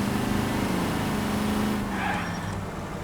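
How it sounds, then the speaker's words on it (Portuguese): A car skidding in L.A. Noire, a continuous loud engine and tire roar with a squealing slide that holds steady before fading slightly, no talk. "Os carros aqui, velho, derrapam sempre."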